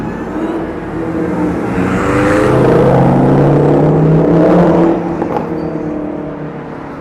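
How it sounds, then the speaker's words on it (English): A group of supercars drives down the Las Vegas Strip at midnight, engines rising to a loud revving swell mid-clip before fading back into steady street noise. "Nothing like a random group of supercars driving down the Las Vegas Strip as pedestrians do their best to jump in front of them"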